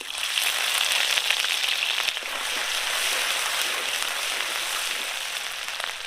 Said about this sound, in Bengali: এক চামচ আদা রসুন বাটা দিয়ে দেবো